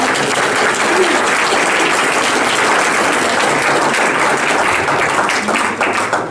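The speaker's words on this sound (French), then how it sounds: "on applaudit très fort le temps" Loud, sustained audience applause at an oral expression contest organised by a Rotary club in the Aisne, a dense wash of clapping that stays steady for several seconds before easing slightly at the end.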